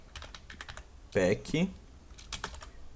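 Keys clack irregularly on a computer keyboard as an npm install webpack command is typed, with a short burst of speech in the middle of the tapping.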